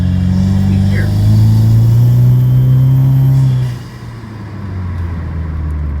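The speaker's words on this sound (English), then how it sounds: "Just like the sound of the turbo spooling, the blow-off valve," A Cadillac ATS with a turbo and ZZ Performance exhaust rumbles as its revs rise, a rising whine and a sharp blow-off hiss coming through. The engine note then drops away into a lower idle-like drone, with someone talking over it.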